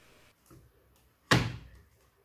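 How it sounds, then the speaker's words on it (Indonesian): A detergent drawer on a front-loading washing machine is pushed shut with a single sharp, loud thunk close by, preceded by a faint soft bump, then quiet. "tutup laci sabun mesin cuci hingga rapat dan terkunci"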